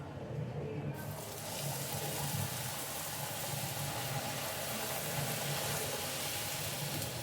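Rolled puri dough, for a milk obbattu sweet, sizzling as it is dropped piece by piece into hot oil, giving a steady dense hiss that stays loud and close throughout, with no talking.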